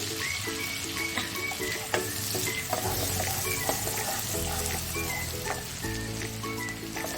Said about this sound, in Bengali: এগুলো একটু হালকা ভেজে নিলাম।